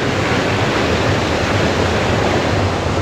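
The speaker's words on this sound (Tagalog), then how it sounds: "Lakas ng tubig oh." A strong river current surges over a hiking-trail crossing in the Nasugbu mountains, a loud, unbroken rushing roar close by with no voices over it.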